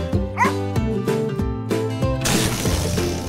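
A dog barks and yips during play with a ball on a cattle farm, giving loud, repeated barks with whimpering yelps over a steady background, ending in a burst of noisy rustling.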